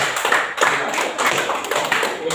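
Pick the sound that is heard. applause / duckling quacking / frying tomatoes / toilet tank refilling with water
applause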